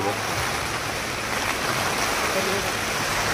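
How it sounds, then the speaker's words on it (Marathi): Heavy monsoon rain pours down during the Mumbai Ganpati festival, a dense, steady hiss of broadband noise that holds throughout and has no distinct pattering. "बघा कसला पाऊस आलाय बेकार"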